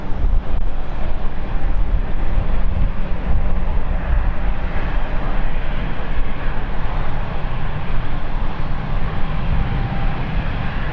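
A KLM airliner taxiing at London City Airport in the evening gives a steady, loud broadband engine rumble that holds throughout with no talk.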